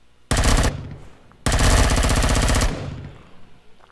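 Automatic gunfire in the Empyrion video game, rapid loud bursts of shots in two strings, a short one and then a longer one, followed by fading echoes.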